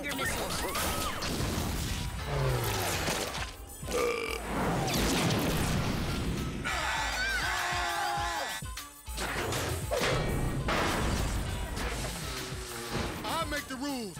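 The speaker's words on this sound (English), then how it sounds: "Firing finger missiles." Cartoon finger missiles from the animated series Super Robot Monkey Team Hyperforce Go! fire in a busy, dense burst of whooshes and crashing impacts, loud throughout, mixed with a character's voice and a musical score.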